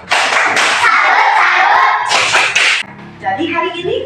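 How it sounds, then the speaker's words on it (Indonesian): Schoolchildren in a classroom perform a 'tepuk salut' clapping routine, with bursts of rhythmic group clapping and slaps followed by a short stretch of talk. "Tepuk salut untuk anak sekolah yang sudah memimpin kita dalam doa tadi."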